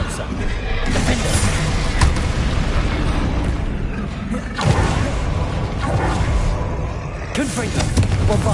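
Spell blasts from Confringo and Bombarda in Hogwarts Legacy, a loud barrage of repeated booming explosions and whooshes with bursts near 0.8, 2, 4.6 and 7.4 seconds over constant combat noise.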